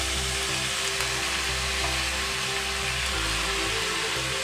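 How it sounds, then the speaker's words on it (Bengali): Grated radish frying in a pan gives a dense, steady sizzling hiss that holds at an even loudness throughout, with a low hum underneath. "এবারে মূলোটাকে আমরা একটু ভালো করে ফ্রাই করে নেব।"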